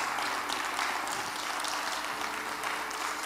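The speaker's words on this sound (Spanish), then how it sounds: "El aplauso es para ti" Church congregation clapping during a service, a soft, steady spread of many hands applauding at a distance throughout.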